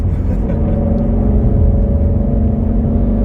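A Ford Mustang GT350 accelerates hard past a BMW, heard from inside as a loud, steady, deep engine rumble and drone that holds throughout the short stretch.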